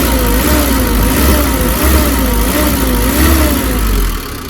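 Engine revving with a cooling fan, the motor growling in a steady, slightly pulsing drone that swells and eases in slow cycles, loud and close, fading a little at the end.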